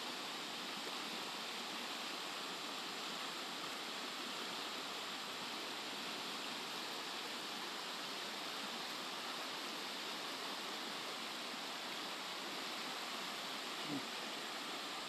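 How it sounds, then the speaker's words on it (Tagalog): Loud, continuous rushing of a flooded river swollen by floodwater, a broad unbroken roar of churning water filling the whole span with no talk and only a faint bump near the end. "Lakas ng lagaslas ng tubig oh."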